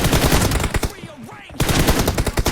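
Gunfire in PUBG Mobile rattles in rapid automatic bursts, loud and close, with a short pause in the middle before the firing resumes.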